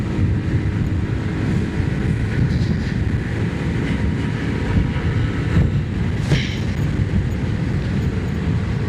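A 2026 Hero Glamour 125 motorcycle ridden at full throttle in fifth gear gives a steady, loud low engine drone mixed with heavy wind rush, sustained without a break.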